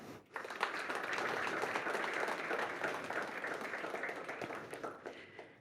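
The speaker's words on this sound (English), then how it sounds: "With a huge round of applause, let's welcome Nana." Steady applause from a conference audience welcoming a panel guest, a dense wash of clapping that holds at an even level for several seconds and tapers slightly at the end.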